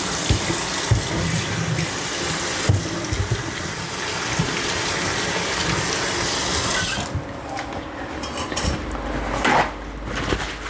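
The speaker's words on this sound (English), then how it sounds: "let me just rinse off my hand" Water from a kitchen tap runs steadily into a sink while a hand is rinsed, a continuous loud splashing rush that changes tone partway through as the flow shifts, with small clinks near the end.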